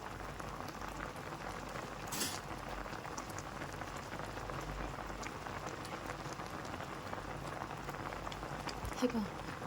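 Orange barfi mixture bubbling steadily in a pan as it cooks, a soft continuous crackle and pop like light rain, close by and fairly quiet, with one brief louder burst partway through.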